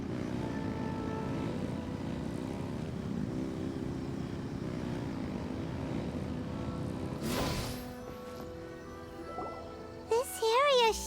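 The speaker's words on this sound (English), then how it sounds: "Rev the engines!" A vehicle engine roars steadily in Genshin Impact, a loud continuous rumble that runs for about seven seconds before cutting off, followed by game sound effects and chimes.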